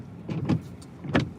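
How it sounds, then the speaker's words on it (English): A car's electric power window motor whirs in a few short bursts as the glass rolls up during a drizzle, close and fairly loud with no talking. "I'm about to roll up this window"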